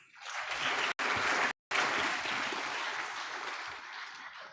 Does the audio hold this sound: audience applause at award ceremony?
yes